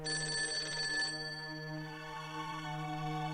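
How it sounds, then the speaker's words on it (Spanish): A telephone bell rings loudly in a Spanish story sound effect, one sustained trilling burst that cuts off after a second and leaves a steady electronic tone hanging alone. "Escuché un teléfono"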